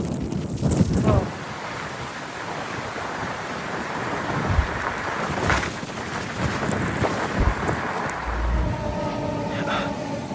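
Strong gusting wind during wildfires buffets the microphone near a residential street, loud rumbling bursts over a constant roar, with scattered faint voices.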